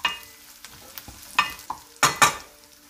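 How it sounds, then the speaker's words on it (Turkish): A spoon stirs carrots in a frying pan with a soft sizzle underneath, giving several sharp scraping and clinking strokes in an uneven rhythm, the loudest pair near the end, and no talking. "Karıştır."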